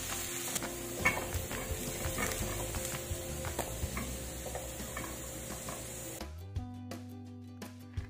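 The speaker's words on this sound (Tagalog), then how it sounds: "Pinan-fry ko din dito ang patatas, dalawang piraso ito at hiniwa ko lang ng maninipis din at bite size." Thin, bite-size potato slices fry in a pan with a steady close sizzle and scattered ticking pops, ending abruptly after about six seconds as a different, lower clattering sound takes over.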